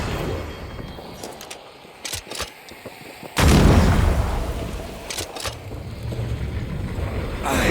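Someone shoots at a light in the video game Banishers: Ghosts of New Eden. A few sharp clicks come first, then a loud, close blast with a long, roaring decay.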